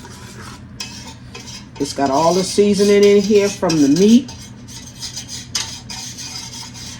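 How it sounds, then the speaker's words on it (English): A whisk scrapes and stirs gravy steadily against a pan with a clattering metallic rhythm while a person talks over it. "Okay, I'm stirring from the bottom."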